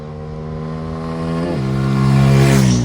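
A Bajaj Pulsar N250 motorcycle's single-cylinder engine idles with a steady thump, then blips and pulls away as the rider sets off, rising in pitch and loudness, close by with no talk.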